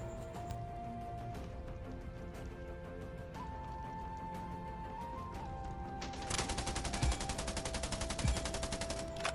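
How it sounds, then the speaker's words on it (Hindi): Gunfire in the Scarfall 2.0 battle royale mobile game, steady rhythmic bursts of shots under constant game ambience, becoming louder and denser toward the end. "तभी मेरे को फायर करता है वो बंदा।"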